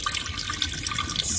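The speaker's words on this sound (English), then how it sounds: "you just put the basket under the sink and it washes the dirty water from the rice for you" Tap water pours steadily into a plastic rice-washing basket held under the kitchen sink faucet to rinse rice, a close, continuous hissing splash with no pauses.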